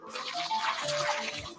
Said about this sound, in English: Let's get brushing.